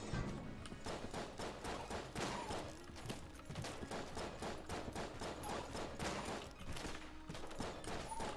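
Dense rapid gunfire from the dungeon-crawling shooter game Enter the Gungeon, a continuous barrage of overlapping shots and thuds with no break, fairly faint in the mix.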